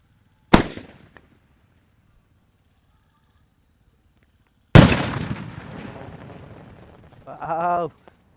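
Naatu vedi country firecracker, size four, explodes in one sharp loud bang followed by a long decaying rumble and crackle; a brief earlier pop and a short voice near the end.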